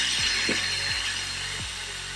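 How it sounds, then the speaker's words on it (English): A tool unscrewing the screws that hold a car's exterior light, giving four short ratcheting clicks spaced evenly over a steady background hiss, close by and alone. "we're gonna start by removing and disconnecting this light here. And supposedly these things are just held on by"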